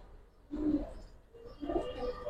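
Giribaz and coloured fancy pigeons coo in two soft bursts, close by, with a brief quieter gap between them and no talk.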